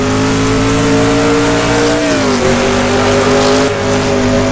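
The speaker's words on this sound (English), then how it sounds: "We'll just give it a little bit of throttle and simply slide our way around the whole thing." A 1960s sportscar in Assetto Corsa slides through a corner on light throttle, its engine droning loud and steady with a brief pitch dip midway, tire noise hissing underneath, no talk.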